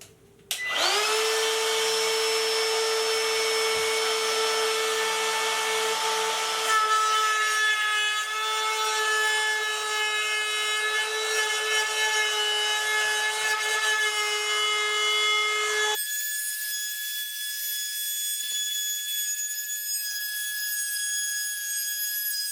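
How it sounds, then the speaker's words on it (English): A router whines at a high, steady pitch close by while rounding over the edges of a wooden cutting board, the tone shifting as the bit bites, with no talking. "What I want to do is just round the edges over on both sides now. I've done some test cuts, I got the router loaded up."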